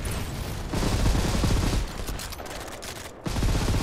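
Dense automatic gunfire in the shooter game Modern Combat 5, loud rapid bursts through most of the stretch with a short gap before another burst, no voices.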